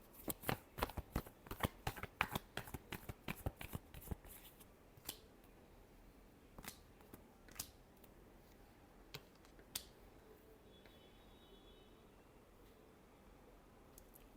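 Tarot cards being shuffled, a quick run of crisp riffling flicks near the start that thins out into a few scattered slaps and taps, close and fairly quiet.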